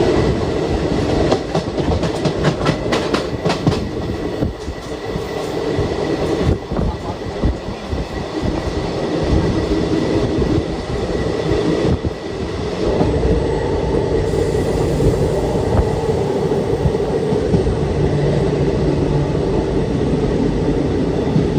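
The Kannur–Ernakulam Intercity train running after pulling out of Payyanur, heard from inside a crowded general-class coach as a loud, continuous rumble with rhythmic clickety-clack of wheels over rail joints, and no clear speech.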